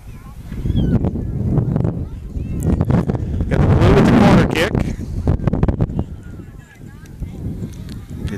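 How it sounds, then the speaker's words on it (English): Gusty wind buffets the microphone at an outdoor youth soccer field, a steady rumbling roar that swells loudest midway, with faint distant voices and field activity underneath. "Wind's picking up a bit out here."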